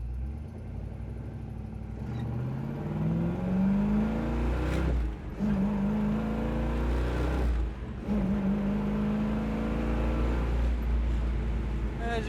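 A 1967 Chevrolet Chevelle SS convertible accelerates hard on a public road, its V8 engine rising in pitch through the gears with brief dips at each shift, loud and close throughout.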